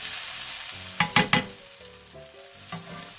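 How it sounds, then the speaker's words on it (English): Vegetables and mushrooms fry in a pan with a steady background sizzle, punctuated by a few sharp clattering stirs of a utensil, heard close with no talking. "Fry the vegetables until they are transparent."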